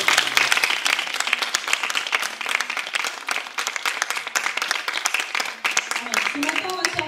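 A children's Sunday church service congregation claps together, brisk uneven applause from a room of people lasting several seconds, with a voice talking faintly near the end.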